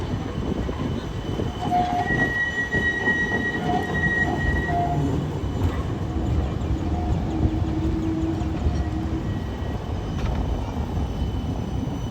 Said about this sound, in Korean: 여기 트램 지나갈 때 줌해서 배까지 같이 찍으려고 기다리다가 이제 갑니다